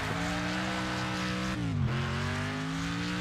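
Car engine revving in the video game NextCarGame, a steady droning engine note that dips and climbs again partway through, with no voices.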